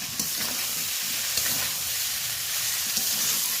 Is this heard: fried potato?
yes